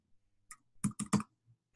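A few quick keyboard key clicks, with a tight cluster of three taps after a lone press, close and crisp against silence.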